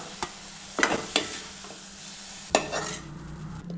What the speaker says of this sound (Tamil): அந்த வாழைப்பழத்தை கூட வதக்கி விடுங்க